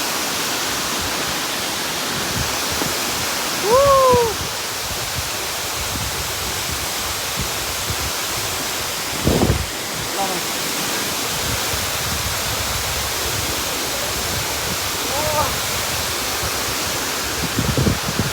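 The Tarabu waterfall pours in a dense, continuous roar, loud and close, filling the whole scene evenly, with a few faint bird calls and small sounds breaking through now and then.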